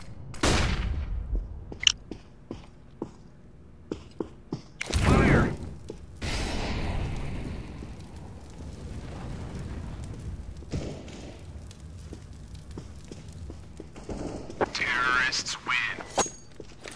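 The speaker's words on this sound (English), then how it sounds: "Throwing a flashbang." A flashbang grenade thrown and detonating in Counter-Strike: Global Offensive, with loud sharp blasts, gunfire pops and clicks scattered around them, and a voice talking in the background.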